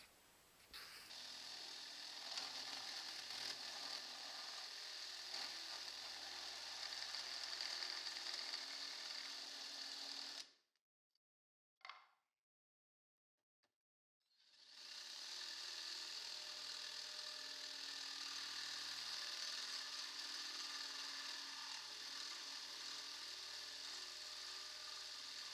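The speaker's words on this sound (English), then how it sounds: "now it's a matter of drilling my first hole" Drill boring a hole through a jig, a steady high whirring grind that runs for about ten seconds, cuts out briefly with a short blip, then resumes just as steadily.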